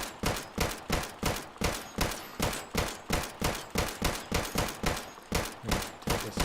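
Rapid automatic gunfire in the survival shooter Deadside, roughly two dozen evenly spaced sharp cracks firing close and loud in a steady rhythm as a magazine and a half is emptied, with no talk.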